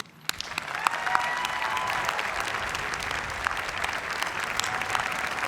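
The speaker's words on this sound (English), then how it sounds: "let's all join in a much-earned round of applause for you" A large commencement crowd honouring the Boston University class of 2020 applauds, a broad wash of clapping that swells quickly and holds steady and full, with scattered cheers.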